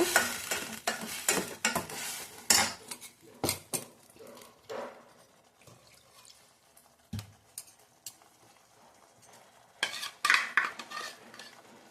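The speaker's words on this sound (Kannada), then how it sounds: "ಇದು ಒಂದೆರಡು ನಿಮಿಷ ಫ್ರೈ ಆಗಬೇಕು ಹಸಿ ವಾಸನೆ ಹೋಗಬೇಕು" Spices sizzle and fry in a pan for betel leaf rasam while a spoon stirs and scrapes against the metal, with irregular clatters that are louder at the start and end and quieter in between.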